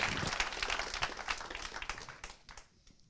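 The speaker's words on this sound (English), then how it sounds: "a warm round of applause for the director of Europol" Audience applause at a conference talk event for the director of Europol, a dense round of clapping that fades out toward the end.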